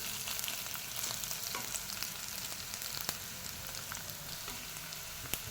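Onions frying in a pan for a quick paneer curry, with a faint, steady crackling sizzle and occasional soft spatula taps.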